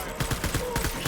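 Gunfire in Death Stranding rattles out as a rapid burst of sharp shots, several quick cracks in an uneven rhythm over about a second, fairly close and loud.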